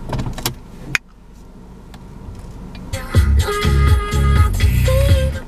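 Power-adjusted car seat, steering wheel and mirrors, with soft electric motor whirs starting partway through and running in short bursts amid cabin clicks and rustles.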